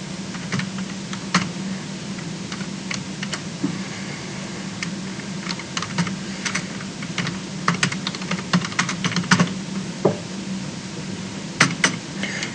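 Steady typing of code on a computer keyboard, a continuous run of close, light keystroke clicks with occasional sharper taps over a constant low room hum.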